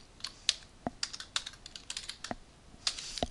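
Close, quiet keystrokes on a computer keyboard tap out in an irregular run of clicks with short pauses, with no voices.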